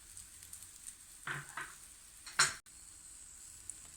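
A chickpea egg omelette cooks in an oiled pan, giving a soft constant sizzle broken by two brief louder bursts of spattering and scraping.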